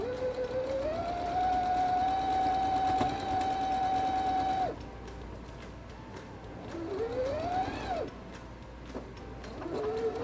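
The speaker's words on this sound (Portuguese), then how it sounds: "Agora nós vamos passar aqui uma costura nessa bainha para dar acabamento." A sewing machine runs a hem seam on a pet bandana, humming steadily for several seconds and then whirring in short bursts that speed up and slow down, with faint room noise underneath.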